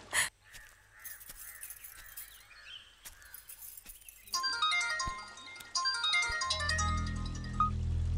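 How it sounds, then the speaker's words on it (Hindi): An electronic phone ringtone starts partway through and keeps repeating its melodic pattern, after a stretch of crow-like caws and quiet background. "सॉरी एक कॉल आ रहा है"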